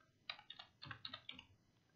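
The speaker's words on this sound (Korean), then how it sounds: "엔터 여러 번" A computer keyboard's Enter key pressed several times in quick succession, giving a short run of crisp, close clicks with uneven spacing and no voices.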